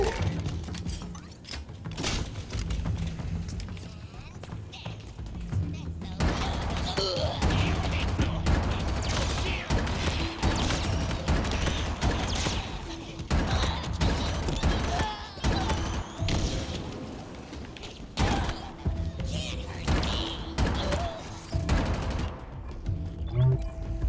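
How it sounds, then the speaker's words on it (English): A plasma turret firing in Halo Infinite: a dense, rapid stream of energy shots hammers on almost without pause, loud and close, with occasional heavier impacts mixed in and no talking. "that plasma turret shreds"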